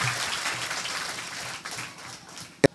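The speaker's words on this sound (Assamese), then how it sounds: "একাজলি হাত চাপৰি আপোনালোকে এখেতসকলক আশীৰ্বাদ দিয়ক" Audience applause at the close of a bhaona drama workshop, a soft diffuse patter of many hands that fades toward the end and stops with one sharp close knock.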